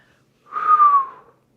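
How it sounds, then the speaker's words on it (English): A Pilates instructor lets out a single short whistle during a mat exercise, a clear, close tone lasting under a second that glides gently downward, with silence before and after. "sorry, I'm whistling."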